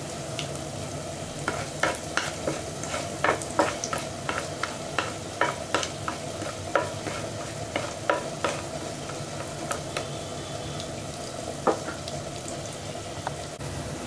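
Cashew nuts fry in oil with fennel seeds, cinnamon and cloves, giving a steady sizzle with frequent sharp scraping and stirring clicks as a spatula moves them around the pan.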